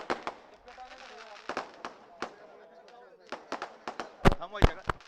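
Firecrackers burst at an outdoor political rally, a string of sharp, separate bangs of varying loudness with several close, powerful blasts near the end, while a voice speaks over a loudspeaker between them.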